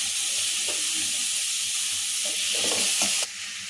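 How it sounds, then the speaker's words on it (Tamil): Lengthwise-cut tomatoes sautéing with onion and coconut in a pan for a cowpea kuzhambu, a steady loud hiss of frying with a few soft stirring knocks before the sizzle drops suddenly near the end. "ரெண்டு தக்காளியை நல்லா நீல வாக்கில் கட் பண்ணியிருக்கேன் அதை சேர்த்து வதக்கிக்கலாம்"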